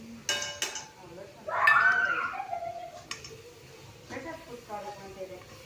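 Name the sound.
stirring spice masala frying in oil in a pan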